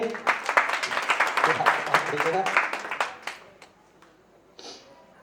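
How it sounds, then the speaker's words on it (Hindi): An audience claps during a talk in Nandurbar, a burst of fairly close, distinct hand claps that thins out and fades after about three seconds, followed by a brief voice. "ताली बजाइए।"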